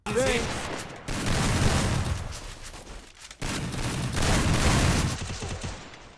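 Rapid video-game gunfire in a shooter match, with dense bursts and overlapping automatic fire in two loud stretches split by a brief gap, a voice heard faintly at the start.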